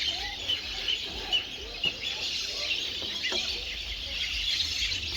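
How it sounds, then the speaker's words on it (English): A colony of sacred ibis and their chicks call near a bird hide in Montagu, making repeated short squawks and chirps over a constant, busy background of bird noise. "So, plenty Sacred ibis here."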